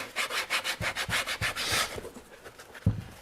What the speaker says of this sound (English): So I need to file this down or trim this down, round it off a little bit.